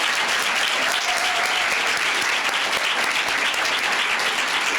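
Continuous, even applause from an audience at a 4-H public speaking contest, loud and dense throughout with no pauses.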